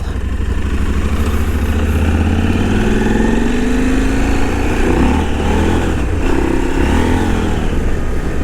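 A 2023 KTM 890 Adventure motorcycle rides off-road on slippery, icy ground, its engine droning loud and close with rising and falling revs throughout, joined by steady wind rush.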